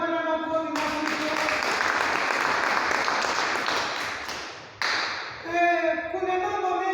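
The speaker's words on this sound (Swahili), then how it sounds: "Tumupe Bwana makofi makubwa." A church congregation breaks into loud, sustained applause that runs for several seconds, dips briefly, then resumes, with music or voices faintly underneath.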